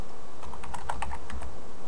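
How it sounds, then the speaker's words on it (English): Close, quick keystrokes on a computer keyboard as a command is typed, a rapid uneven run of light clicks over a steady low hum, with no talking. "now we're going to go ahead and type in the command"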